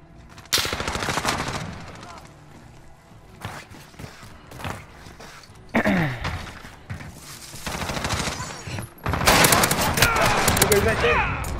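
Rapid automatic gunfire in Call of Duty Modern Warfare, loud bursts and rattling volleys recurring throughout alongside footsteps and game effects, with voices talking at times.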